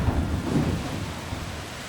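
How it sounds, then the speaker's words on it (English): Heavy rain falls steadily while low thunder rumbles throughout, filling the whole short stretch as a dense, loud wash of storm noise with no voices. "today we have rain."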